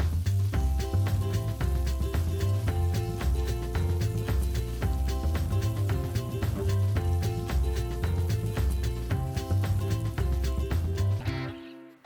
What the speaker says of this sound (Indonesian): Ini kita bisa kumpulkan ke tengah dan kita putar-putar menggunakan spatula.